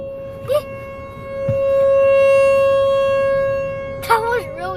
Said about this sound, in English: That's the horn right there.